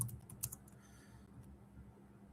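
A few quick keystrokes on a computer keyboard, entering a task name in data-prep software, click faintly at the start and then give way to a low, steady room hum.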